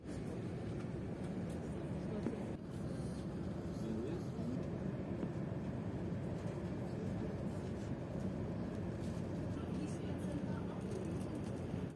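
A Lufthansa Airbus A380 taxiing to the runway at New York JFK, heard from inside the cabin as a continuous low rumble of engines and airframe, steady and unbroken throughout.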